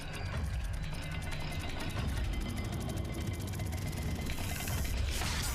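A rotating dial puzzle mechanism turns in Hogwarts Legacy, giving a steady rapid ratcheting click of gears running for several seconds, close and fairly loud, with a brighter swish near the end.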